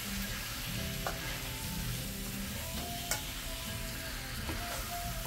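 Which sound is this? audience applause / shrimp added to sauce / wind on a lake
shrimp added to sauce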